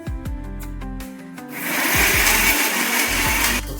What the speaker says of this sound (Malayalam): ചിക്കൻ നമ്മൾ ഈ പരുവത്തിൽ അടിച്ചെടുക്കണം.